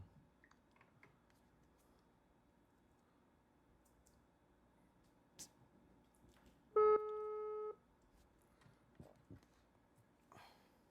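A telephone busy tone sounds after a call is cut off, a short steady electronic beep of about one second, loud and clear over a quiet room with faint background clatter.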